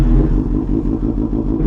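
A Suzuki GSX-R sportbike idles close and loud through its exhaust pipe, with a deep, lumpy, pulsing rumble and slight swells in engine speed.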